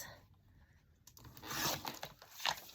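Faint, close papery rustling and crisp cutting through paper while trimming a sheet for a small handmade book, quiet at first and then louder in short scratchy bursts.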